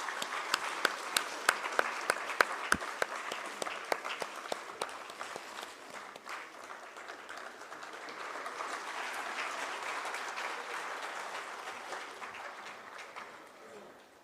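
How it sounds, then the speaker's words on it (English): Seminar audience applauding together, a steady wash of clapping with sharp claps standing out at first, swelling again toward the middle and then slowly tapering off. "Ladies and gentlemen, let's give a round of applause."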